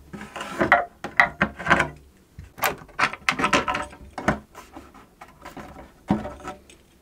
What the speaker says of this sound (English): Now that the glue is dry, I can remove the clamps.